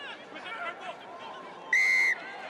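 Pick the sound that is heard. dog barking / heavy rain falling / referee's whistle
referee's whistle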